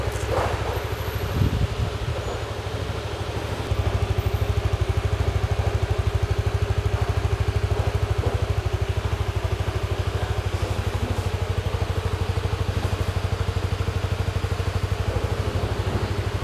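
A Suzuki-style Supra GTR150 V1 motorcycle engine idles at a dealership. A steady, even, low throbbing runs throughout, with a brief clatter near the start before it settles, close and fairly loud, with no talking.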